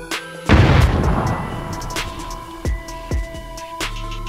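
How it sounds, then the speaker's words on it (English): Grenades exploding in the shooter game PUBG: a heavy boom with a long rumbling decay, followed by several sharper thuds and gunshot-like bangs scattered across the rest of the clip. "he's throwing grenades in there as well"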